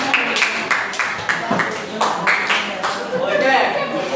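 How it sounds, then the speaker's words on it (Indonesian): Scattered applause from a classroom group during a teaching practice lesson, a string of brisk claps spread across the whole stretch. "Oke, kasih tepuk tangan"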